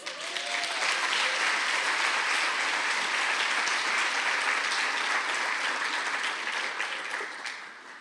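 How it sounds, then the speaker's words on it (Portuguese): A church congregation breaks into loud, sustained applause that swells quickly, holds steady for several seconds and then tapers near the end. "Um aplauso a Jesus."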